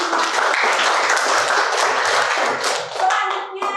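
A school class claps hands together, loud close rapid clapping that runs steadily and tapers near the end, with a voice briefly audible over the last moments.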